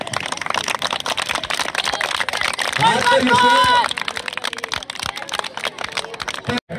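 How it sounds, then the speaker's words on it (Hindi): A crowd claps at a school sports gala, with a thick, continuous patter of many hands throughout and a voice rising briefly over it midway. "ताड़ियां बजाओ, ताड़ियां।"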